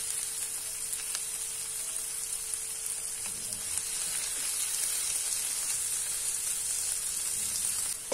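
Vegetables cooking in a pan for a beetroot wrap filling sizzle and fry steadily, with a soft stir of the pan mixed into the hiss. The sound is continuous and fairly close, with no talking.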